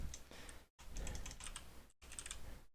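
Quick keystrokes rattle on a computer keyboard in steady bursts, broken by two brief silent gaps, close and moderately loud with no voices.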